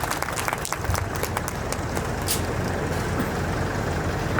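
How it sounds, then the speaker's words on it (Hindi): Crowd applause at an agricultural seed company crop show event in India, welcoming an R&D head to the stage: a dense, steady wash of clapping with heavy low rumble and some voices underneath. "जोरदार तालियों से उनका स्वागत करते हैं"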